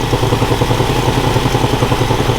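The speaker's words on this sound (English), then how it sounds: "we definitely have an exhaust leak in here somewhere" A 1964 Chevelle engine runs steadily with an exhaust leak, giving a loud, close, even rumble with a rapid ticking pulse throughout and no talk.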